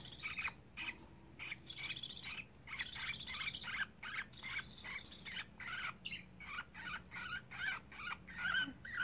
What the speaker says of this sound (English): Sometimes baby birds are afraid.